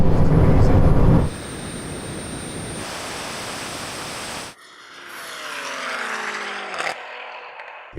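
A BMW car engine in a drag race against a Bugatti Chiron Super Sport, loud roaring acceleration that drops sharply at gear changes, then rises again as a rising whine, heard alone without talk.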